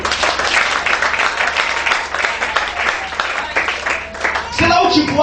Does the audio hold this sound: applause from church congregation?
yes